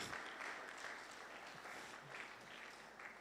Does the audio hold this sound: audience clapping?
yes